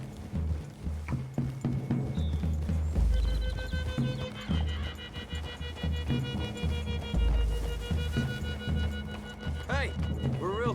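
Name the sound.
horses walking, hooves clip-clopping, from video game Red Dead Redemption 2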